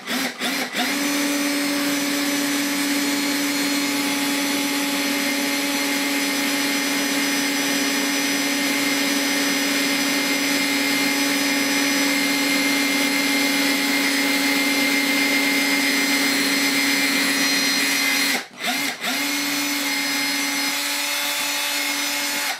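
A drill bores steadily through a glazed tile during a towel radiator installation, a constant high whine running for most of the stretch, briefly stopping twice before resuming, with no talking.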